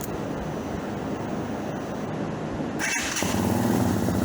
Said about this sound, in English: I really like the way this bike sounds